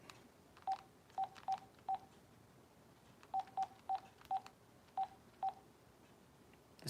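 Touch-tone dialing on an old landline phone: ten short, clear beeps, a quick run of four, a pause, then six more in uneven rhythm, close and distinct over a quiet background with no talking.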